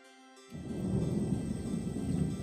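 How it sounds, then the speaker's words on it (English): Low thunder rumbles in St. Louis during a building storm, a broad, steady roll that swells in and lingers for a couple of seconds with no talk. "Right now here in St. Louis, we are hearing a few rumbles of thunder"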